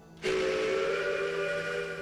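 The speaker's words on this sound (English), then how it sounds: "Ooh, that's an aggressive whistle." Steam train whistle in the Railway Empire: Japan game, one sharp loud blast that starts abruptly and holds a steady shrill tone with a breathy hiss until the end.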